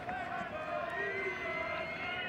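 Crowd noise from a large 40,000-plus seat ballpark at an Oregon State college baseball game, a steady, even murmur throughout with no distinct cheers rising above it.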